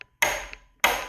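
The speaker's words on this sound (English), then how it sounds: "Take your carpenter's hammer." Two sharp hammer strikes from a carpenter's hammer on the locking nut of a Graco airless paint pump during a repack, each a loud close metallic hit with a short ringing decay, spaced well apart.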